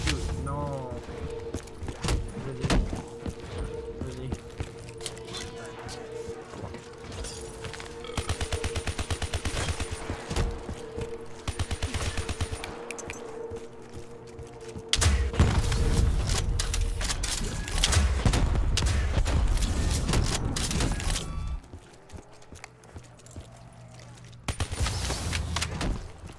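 Gunfire in a custom zombies map of a video game crackles in dense bursts and rapid volleys, loud and near, with mechanical clatter and quieter gaps between runs of shots.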